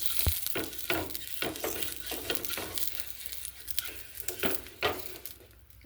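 Mustard oil brushed across a hot griddle with an eggplant stem gives a steady close sizzle, broken by scraping strokes and a few sharp clicks, with no talking.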